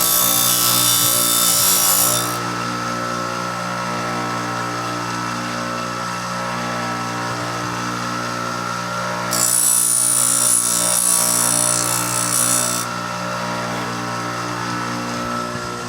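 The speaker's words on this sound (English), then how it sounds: "I'm going to run up my little disc sander." A small disc sander runs with a steady motor hum, and two bursts of harsh, hissing abrasion sound as a wooden instrument part is pressed against the disc, near and loud.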